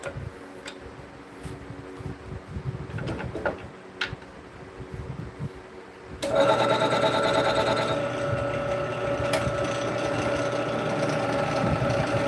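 A wood lathe turning a large bowl blank while a tenon is cut: quiet workshop ticks and knocks at first, then the motor spins up into a loud steady whir that carries on to the end.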